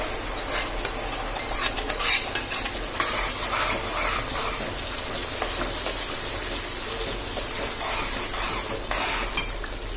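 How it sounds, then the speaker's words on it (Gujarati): A spoon steadily stirs gravy through a frying paneer curry in a pan, scraping and clinking over a constant bubbling sizzle that runs close and even throughout. "હવે આપણે ગ્રેવીને હલાવતા જશું અને તેલ છૂટું પડે ત્યાં સુધી એને પકવતા રહીશું"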